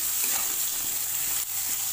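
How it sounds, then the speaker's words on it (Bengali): Bitter gourd pieces dusted with turmeric fry in a pan, a dense, even sizzle with a faint clatter near the middle, heard close and alone. "আমি না এটা ঢেকে ঢেকে ভাজবো।"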